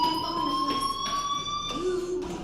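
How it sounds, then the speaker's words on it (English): A fire alarm in the Life Is Strange video game rings with a steady electronic tone and repeated pulses, continuous and fairly loud, with a faint voice underneath. "Hey, do you hear that fire alarm? That means you should be outside."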